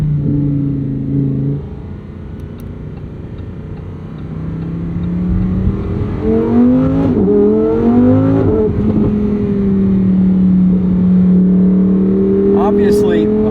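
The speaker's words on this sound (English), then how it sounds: "What's the point of driving a Lamborghini if you're not making noise?" A 2023 Lamborghini Huracán Sterrato's engine revs up and roars, rising and falling in pitch, loud and close, with a person talking over it at times.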